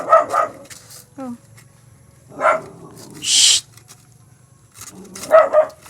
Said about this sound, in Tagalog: Yung mga aso dito nagtatahol kasi nga mayroong nagalakad sa labas